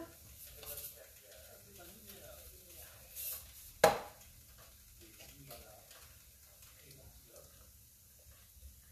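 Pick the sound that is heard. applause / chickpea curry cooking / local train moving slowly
chickpea curry cooking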